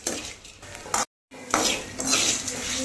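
Toor dal dry-roasts in a pan on medium heat, with a spoon scraping and stirring against the metal in close clattering bursts and a soft rattle of grains, broken by a short silence.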